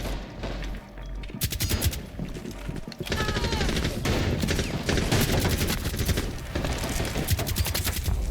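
Rapid automatic gunfire rattles in Rainbow Six Siege, loud bursts of closely spaced shots that begin after a short pause and continue densely for several seconds.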